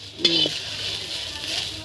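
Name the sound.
silkworm pupae frying in a pan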